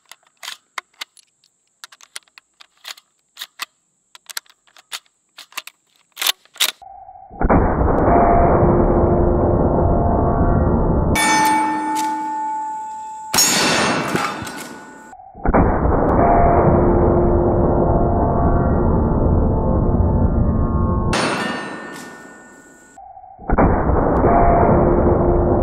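Lever-action rifle shots at several steel targets and a metal object outdoors: a burst of sharp, rapid cracks at first, then long sustained loud roaring blasts broken by brief gaps and metallic clanks, with no talking.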